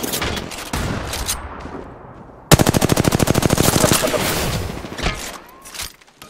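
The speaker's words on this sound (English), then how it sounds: "They're shooting at me." Rapid automatic gunfire in the battle royale game Apex Legends, with a brief burst followed by a loud, sustained stream of shots that tails off into scattered impacts and game effects.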